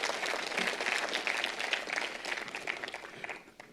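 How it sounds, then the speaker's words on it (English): An audience at a formal event gives a round of applause, a fairly faint, dense patter of many hands clapping that fades out toward the end. "can you please give him a round of applause for the amazing efforts that he puts in"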